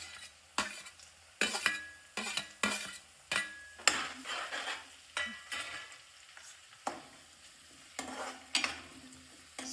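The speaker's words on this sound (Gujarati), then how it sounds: "સારી રીતે મિક્સ કરીશું." Chopped green chillies stirred in a sizzling pan for a garlic curry, with a rhythmic series of close, sharp spoon scrapes and knocks over a soft frying hiss.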